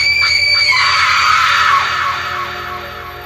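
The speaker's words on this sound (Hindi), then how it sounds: "चुड़ैल दर्द से चिल्ला रही थी।" A witch screams in pain in a horror story sound effect, one loud, sustained, shrill cry that trails off and fades over a few seconds.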